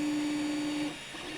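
Ender 3 3D printer steadily laying down its first layers, a continuous close mechanical whir with a steady stepper-motor tone that cuts off near the end, leaving softer machine hum.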